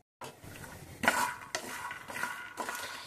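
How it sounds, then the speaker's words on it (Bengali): Peanuts roasting in a pan on low heat, stirred with a utensil that scrapes and clinks against the metal in a few distinct strokes over a soft background hiss. "এটাকে খুব সুন্দর করে কম আঁচে করে এটাকে ভেজে নেব"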